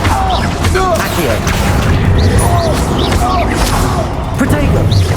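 The Accio summoning spell is cast in Hogwarts Legacy, a magical zap and pull within dense, continuous combat audio with booming, mechanical clatter and swishes throughout.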